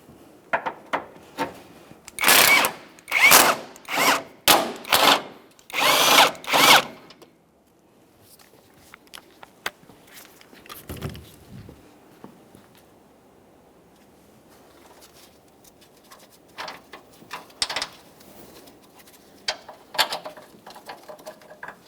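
A power tool loosens the transmission mount bolts on a 2012-2015 Honda Civic 1.8L, coming as a run of loud, close, evenly spaced bursts. A quiet stretch follows, then fainter clicks and rattles of hardware.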